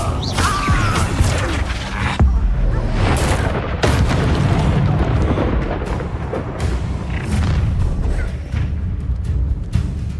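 Fiery spell blasts boom out in a Hogwarts Legacy duel, loud bursts and crashes landing in quick succession over a dense, rumbling game soundscape with scattered shouts from combatants.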